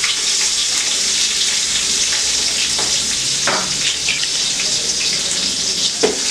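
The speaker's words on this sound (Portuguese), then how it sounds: "primeiro a gente vai começar colocando um pouco do camarão, que é para ele já começar a dar aquela fritadinha" Shrimp frying in a hot pan for axoxó, a steady dense sizzle with crackles and small pops, close and continuous throughout with no talking.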